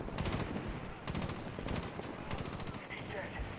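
Rapid automatic gunfire in the video game Medal of Honor, dense bursts of shots crackling close and loud almost without pause, with a voice briefly speaking underneath.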